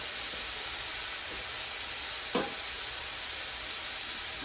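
Shrimp frying in a pan for teriyaki shrimp, a steady loud sizzle and hiss with a brief clatter partway through, no voices.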